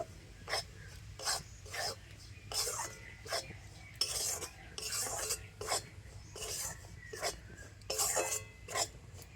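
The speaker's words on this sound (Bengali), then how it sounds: "তেলের সাথে ময়দা আর সুজিটা একটু ভেজে নেব" A utensil scrapes rhythmically across a pan, stroke after stroke, as flour and semolina are roasted in oil over a low flame for a palm-fruit pitha batter. The scraping is soft and close, with a low steady hum beneath.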